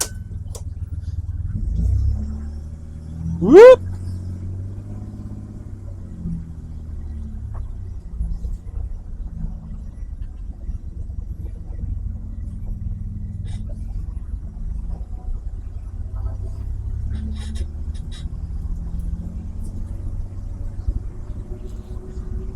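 A BMW race car drives at Silverstone with a low, steady engine rumble that drones throughout, rising slightly at times; one voice gives a short whooping shout early on.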